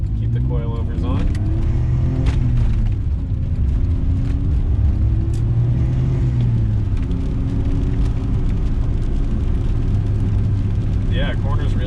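A 1993 Suzuki Alto Works RS-R with a turbocharged engine, all-wheel drive and a five-speed manual, droning steadily from inside the cabin as its engine note rises and falls through the gears, with a voice talking over it.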